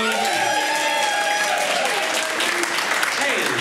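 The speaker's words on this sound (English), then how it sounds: "Big round of applause to Anthony in the tech" A comedy show audience claps loudly and continuously, with the host speaking over the ovation partway through.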